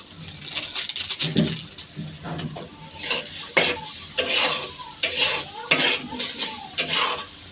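Small kachki fish are stirred and sautéed with spices in a clay cooking pot, giving repeated scraping and clinking strokes of a spoon against the pot over a soft sizzle, each stir close and distinct.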